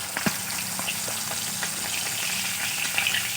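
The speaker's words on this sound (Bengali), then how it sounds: "বাকি মাছগুলো আমি একইভাবেই ভেজে নেব।" Steady sizzling and crackling of fish frying in hot oil, with a few soft clinks and splashes mixed in.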